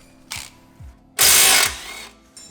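Wrench working the 18mm nut on a BMW E60 M5 strut bracket, with a short ratcheting burst, a longer loud metallic rasp, and another brief click, fairly close.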